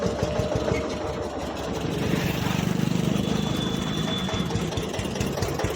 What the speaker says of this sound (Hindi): जो ट्रैक्टर है वो पीछे हटा रहा है।